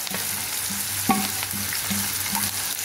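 Onion fritters coated in starch hiss and crackle in hot oil up close, a steady sizzle with a few light stirring clinks and one sharper knock partway through, and no voices.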